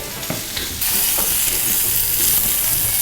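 Stir fry sizzles loudly in a wok, a close, continuous frying hiss that swells after a few stirring scrapes and then holds steady, with no talk.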